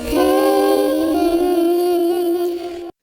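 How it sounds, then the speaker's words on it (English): A sustained vocal sample heavily time-stretched on a Roland SP-404, holding one steady pitched note with a grainy, wavering, jittery texture for nearly three seconds before cutting off abruptly. "I'll show you an example of some more extreme time stretching where it can start to sound pretty jittery and stuttery"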